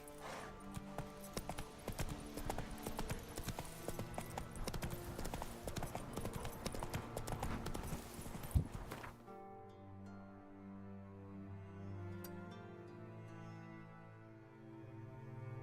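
Horse hooves clip-clop in a steady rhythm as the horse Roach travels in the video game Witcher 3, clear and fairly close, with game music and ambience around them. The hoofbeats stop partway through and the quieter music carries on.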